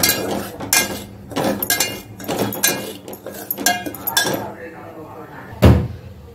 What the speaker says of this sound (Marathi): आपण रवा भाजून घेऊया।